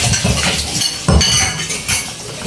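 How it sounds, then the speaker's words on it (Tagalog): Dishes being washed by hand, with cutlery, plates and pots clinking and clattering close by in irregular bursts. "Makita niyo yung ating paghuhugas."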